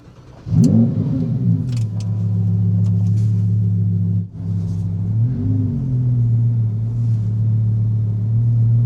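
A deep Lamborghini engine rumbles and revs up close as the car drives into a workshop, settling into a steady low idle, then revs again briefly before idling on, with no talking.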